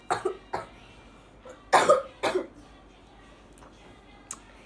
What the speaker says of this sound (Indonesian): bentar saya mau batuk